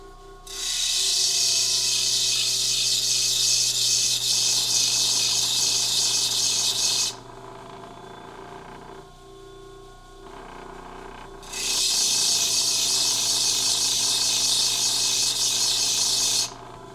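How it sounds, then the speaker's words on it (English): Wooden intarsia piece edges rolled against a flat lapping stone, giving two long bursts of loud, steady gritty rasping separated by a brief pause. "I'm literally going to place the stone on the lap and roll my edges up to simply put a small radius on them"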